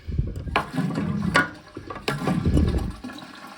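Toilet flushing poorly, uneven gushes and gurgles of water in short bursts rather than one strong flush, heard close up.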